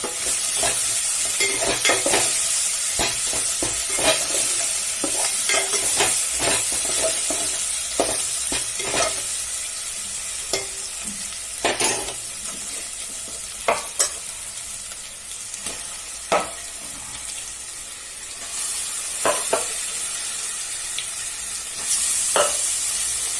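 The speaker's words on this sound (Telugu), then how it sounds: "ఇప్పుడు మనం కలిపి పెట్టుకున్న మటన్ మిశ్రమం ఉంది కదా అది ఆయిల్లో వేసుకోవాలి" Boneless mutton mixed with ginger-garlic paste frying in oil, a steady sizzle broken by repeated scraping strokes of a spoon stirring the pan, close and loud.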